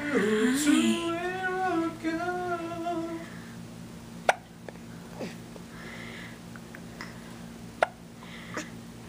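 A nine-week-old baby hiccups twice, each a sharp, isolated hic several seconds apart. A voice at the start gives a short, sing-song sound, and the room is otherwise quiet.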